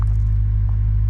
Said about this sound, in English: you can hear the car at idle with the flaps closed